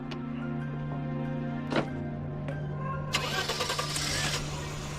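A car engine cranks and catches, then settles into a running idle that is close and clear after a few short mechanical clicks, with no one speaking.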